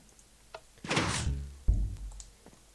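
A chest opening in the Minecraft video game, a wooden creak followed by a hollow thunk, close and clear with no talking.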